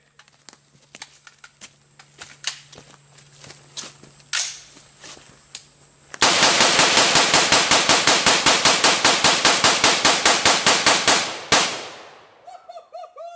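An M4 rifle fired at a bone starts with scattered single cracks and short bursts, then lets loose a long, loud, rapid full-auto string of shots lasting about five seconds before it stops.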